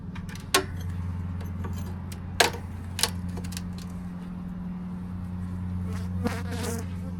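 Honeybees at an open hive produce a steady, close, droning buzz, broken by a few sharp clicks and knocks from hive parts being handled.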